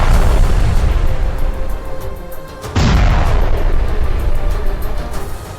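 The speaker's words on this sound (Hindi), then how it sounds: "13 सेकंड के इस वीडियो में गाजा सिटी में एक जोरदार धमाका होता दिखा" A deep, heavy boom of a large explosion in Gaza City bursts in suddenly partway through, followed by a rumbling roar that lingers over constant low background noise.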